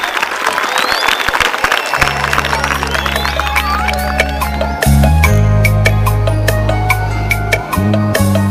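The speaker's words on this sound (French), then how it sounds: "Nous vous demandons d'applaudir pour Télé Bruxelles" Applause for Télé Bruxelles at a community awards event, a crowd clapping steadily under loud background music with a sustained low synth bass, no speech over it.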